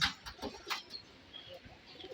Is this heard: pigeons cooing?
yes